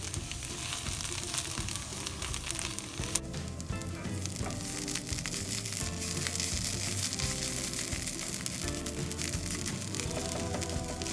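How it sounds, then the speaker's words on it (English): Saag for saag bhaji frying in a pan, a dense, continuous close sizzle with crackling bursts and occasional stirring, no talk. "All we've got to do now is just wait for the saag to cook."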